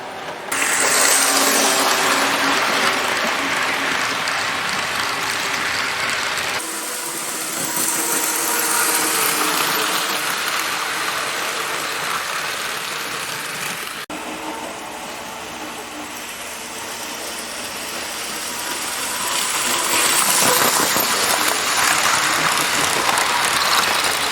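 A TYCO Duo High-Speed Freight toy train runs along its track, giving a continuous whirring, clattering mechanical rumble that swells and fades as it circles past, loud throughout.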